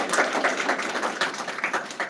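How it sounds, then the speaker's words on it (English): Audience applause at a retinoblastoma research symposium panel: a dense, steady patter of many hands clapping for about two seconds, fairly close and with no voices over it. "let's give him a round of applause"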